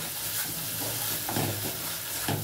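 Masala sautéed with whisked yogurt for dhaba-style rajma, a close, steady sizzle with soft scraping stir strokes repeating every second or so.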